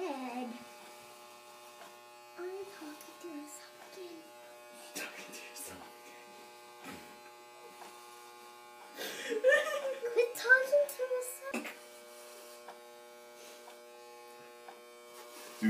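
Electric clippers shaving a head for a mohawk, a steady faint buzz running throughout beneath a voice, whimpers and chuckles, with a louder burst of activity partway through.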